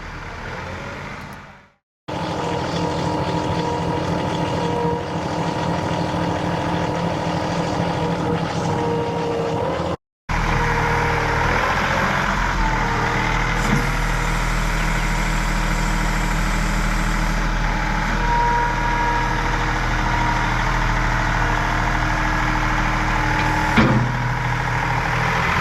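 A John Deere 2038R compact tractor engine drones loudly and steadily while the bucket compacts soil, with two brief dropouts near the start and no speech over it.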